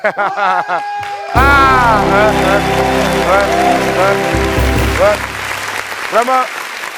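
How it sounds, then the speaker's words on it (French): Audience applause at a French-language comedy show mixes with loud speech and bursts of crowd noise. The clapping comes in a dense patter under raised, pitched voices, and a sudden loud swell sets in partway through. "Applaudissez encore pour vous, s'il vous plaît."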